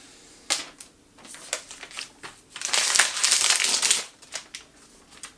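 Frosted plastic wrap crinkles and crunches as it is pulled off a new gold iPad Air 3, with scattered crackles that swell into a dense, sustained rustle midway before tapering to a few faint crinkles.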